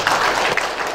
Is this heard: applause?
yes